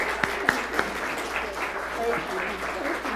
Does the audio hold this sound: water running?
no